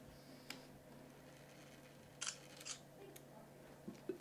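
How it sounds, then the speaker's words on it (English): A camera lens whirs and ticks as its autofocus engages on a half-pressed shutter: a few faint, brief clicking bursts, close and quiet, over near-silent room tone with no voices. "Very common lens noise focus when we're at the point of autofocus right before you take a picture"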